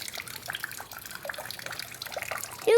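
Water pours out outdoors in a faint, steady trickle and splash, running continuously for a few seconds with no voices.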